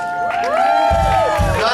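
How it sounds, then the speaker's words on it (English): A live outdoor crowd at Knott's cheers and whoops for a hillbilly band's bass player, with a sustained excited cheering and bursts of applause, close and loud with voices mixed in. "Big applause."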